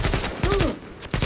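A gunshot in The Division video game, heard as a few sharp reports in a brief burst with loud shots at the start and end and faint tonal sounds between.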